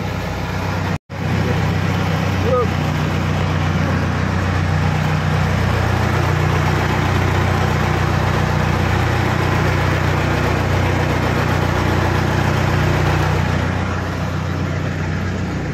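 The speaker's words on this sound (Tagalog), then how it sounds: "Makina nitong aming sasakyan, sinasakyan." An engine idles loud and close on a vehicle during a trip in Bicol, a steady, even rumble that holds throughout, with one short dropout near the start.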